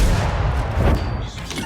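A tank cannon fires in a World of Tanks-style battle on the Murovanka map, the AMX M 4 mle. 45 firing with a heavy boom and rumbling aftermath, loud and close.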